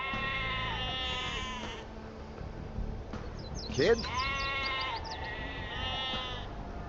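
Sheep bleat in the real-time strategy game Age of Empires II: several wavering game bleats rise over a steady game soundtrack, with a voice talking throughout.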